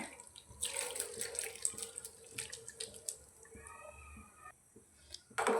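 Water gushes and splashes into a pot while sabudana payasa is being cooked, a bright running pour with gurgles and splashes that stops before the end, followed by a short clatter.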